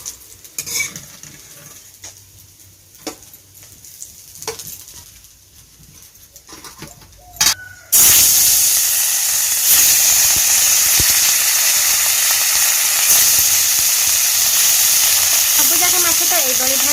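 Rohu fish pieces fry in hot oil in a pan, a quiet clink of utensils giving way to loud, steady, continuous sizzling that fills the rest of the stretch.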